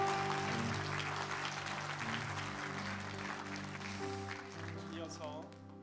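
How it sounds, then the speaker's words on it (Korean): A church congregation at an ordination service applauds in a steady wash, blended with sustained music throughout and slowly easing toward the end. "큰 박수로 함께 축복하고"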